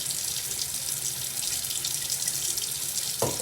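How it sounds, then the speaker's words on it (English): A bathroom sink faucet is turned on slightly and runs in a steady, close hiss of water, with no talk. "I'm gonna turn on my water slightly so I can start warming that up."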